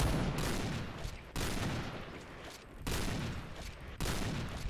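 Gunfire in the video game Point Blank, with four heavy bursts at roughly one-and-a-half-second intervals, each ringing and decaying, moderately loud with no talk.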